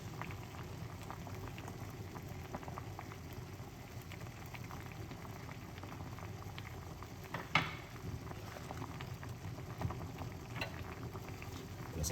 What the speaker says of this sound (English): Just make it boil up for a little bit.